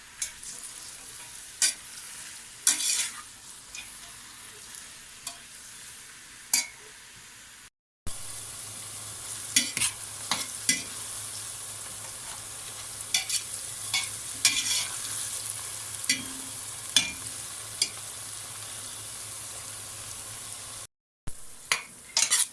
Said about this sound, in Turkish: Sararana kadar biberlerimizi pişirelim.